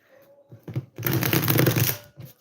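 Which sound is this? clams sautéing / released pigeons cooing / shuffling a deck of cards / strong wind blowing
shuffling a deck of cards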